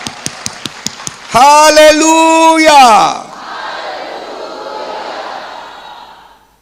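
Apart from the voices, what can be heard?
congregation applauding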